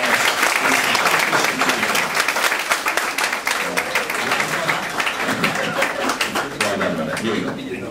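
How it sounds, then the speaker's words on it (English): Hearty audience applause at an alumni sharing session, many hands clapping close and loud with scattered chuckles and crowd voices mixed in, holding steady throughout. "boys and girls, how about a big round of applause?"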